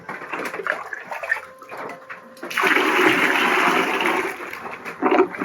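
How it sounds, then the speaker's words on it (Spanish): A toilet in an Amazon jungle community in Ecuador flushes with a loud rushing gush of water that swells after a few seconds of quieter trickling and clatter. "así se tira la cadena"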